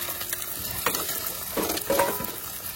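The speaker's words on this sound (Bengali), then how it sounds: "এবার ডিম ভাজবো, কারণ শুধু ডাল হয়েছে, ওই জন্য ডিম ভেজে খেতে হবে।" Eggs frying in a pan, a soft continuous sizzle with a few scraping stirs of a spatula across the surface.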